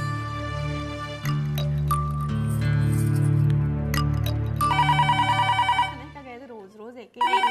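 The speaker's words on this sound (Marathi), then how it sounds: "अगं फोन वाजतोय ना, घ्या ना कोणीतरी" A household telephone rings in a Marathi TV serial scene, with repeated bell-like trills under people talking throughout.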